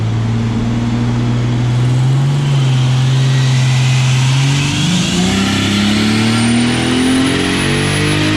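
A turbocharged 3.0L M52 engine in a BMW E30 revs loudly up close, boost duty cycle at 70%, holding a steady drone before climbing sharply in pitch as the throttle opens, then settling high.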